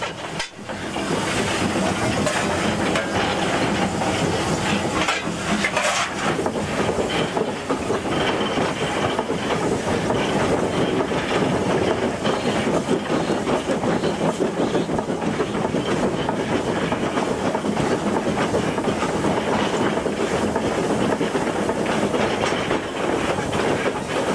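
A locomotive on the Elsecar heritage railway hauls its train uphill through woods with a loud, continuous rumble and hiss, with steady clickety-clack from the wheels throughout.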